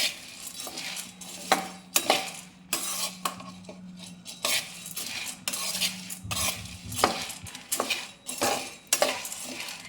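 Sesame seeds stirred in a pan over a low flame, a dry scraping and clinking of a spoon against metal in uneven bursts, fairly close, with a faint low hum underneath and no talking.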